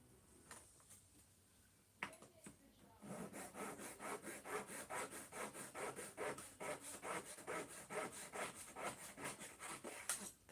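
A small hand saw cuts a thin wooden dowel for a model of HMS Victory, with quiet, close, steady back-and-forth strokes after a few scrapes to start.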